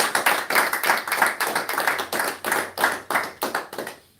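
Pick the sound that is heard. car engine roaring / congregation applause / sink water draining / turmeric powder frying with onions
congregation applause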